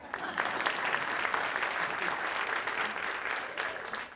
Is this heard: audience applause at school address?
yes